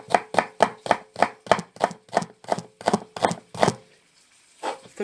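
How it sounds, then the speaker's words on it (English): A knife chops an onion on a cutting board in a quick, even run of about a dozen crisp thuds close by, then a brief pause and a couple more cuts. "If you want to keep the knife on the board, that's nice chopping too"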